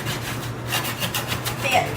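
Leftover cookie dough is scraped off a baking tray in a home kitchen: a steady, close rasping rub in repeated short strokes over a low background hum.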